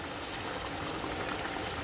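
Hot water poured into Mexican rice cooking in a pot, a steady, loud hiss and bubbling splash of liquid running the whole time with no talking.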